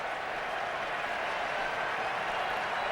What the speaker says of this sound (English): crescendo of applause here.